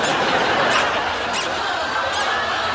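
Repeated bright squeaks from new leather dress shoes on a bar floor, with three evenly spaced chirps standing out against a constant crowd murmur.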